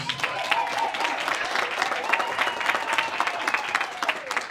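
An audience at a youth games torch ceremony applauds an organizing committee, a loud, dense wash of many hands clapping steadily throughout.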